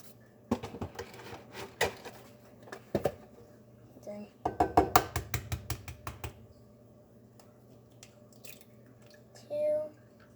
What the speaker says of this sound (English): going to crack all 3 eggs